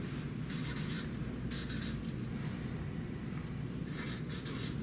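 A pen writes on paper in a notebook, in three quick bursts of scratchy strokes with short pauses between them, close and clear over a steady low background hum.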